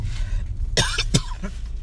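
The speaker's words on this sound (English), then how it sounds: "All of a sudden I start coughing" A sudden fit of coughing breaks out close by: two or three harsh, explosive coughs in quick succession with a throat-clearing edge, over a low steady room hum and no speech.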